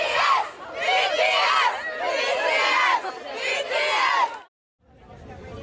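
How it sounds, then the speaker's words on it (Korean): Crowd of BTS fans gathered outside the White House fence shouting and cheering in loud, surging bursts of excited voices, then dropping abruptly to near silence before a quieter murmur returns. "백악관 밖도 팬들의 함성으로 들썩였습니다"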